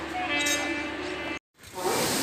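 Passenger train 13168 Kolkata Weekly Express pulling out of Asansol Junction, heard from inside a general coach as a loud, steady rumbling roar with a brief drop to silence before the rolling noise returns.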